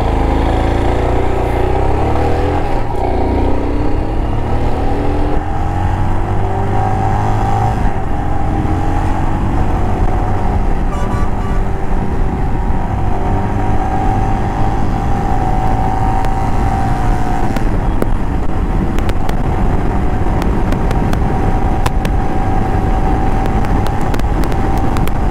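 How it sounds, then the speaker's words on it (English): Royal Enfield Himalayan motorcycle accelerating hard, its engine note climbing steadily through the gears in a loud, continuous roar with wind noise throughout, no voices heard. "now I'm going to pull this motorcycle a little hard"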